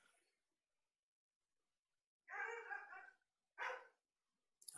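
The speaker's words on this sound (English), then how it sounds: "That's my dog again." A pet dog in a home barks a few times, first a longer bark, then a short sharp one, fairly loud against an otherwise quiet room.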